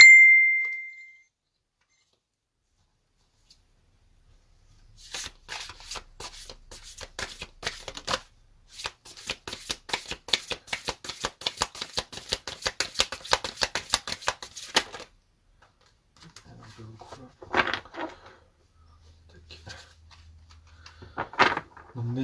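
Tarot de Marseille cards are shuffled close by in dense bursts of rapid riffling flutters, two long stretches of quick papery slaps, after a brief ding and before softer handling sounds.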